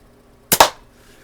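A Daisy 299 BB gun fires at targets in two sharp, loud cracks only a tenth of a second apart, each followed by a short decay and then quiet.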